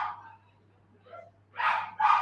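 Dogs from a household of eighteen give a few short barks and yips, a faint one first and then two louder barks close together near the end, with no talking.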